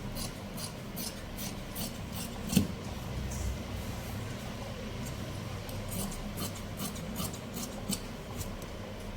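Scissors cut steadily through blouse fabric, giving a continuous close rasping and rubbing sound with soft repeated snips over a quiet background.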